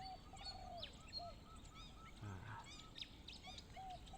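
A spotted dove coos in its repeated phrases at a decoy-bird session outdoors in Samut Sakhon after rain, with sharp chirps from other birds scattered over a steady low background hum.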